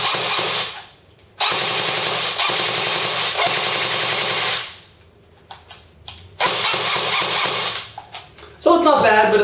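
An A&K ACR Masada airsoft rifle with a 9.6 battery firing full auto at about 700 rounds a minute, loud close buzzing bursts of a few seconds each, separated by pauses and a few short clicks.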